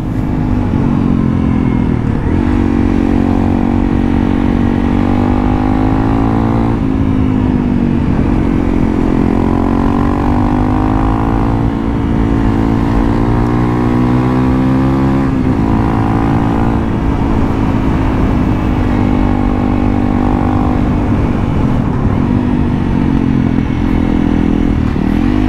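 A modified Honda CRF 300L motorcycle rides on a road, its engine droning loud and steady and rising in pitch as it accelerates and pulls, with wind and clatter throughout.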